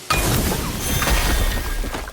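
A glassy mirror door breaking in God of War, a single loud smash and crash that rings briefly, close and with no one speaking.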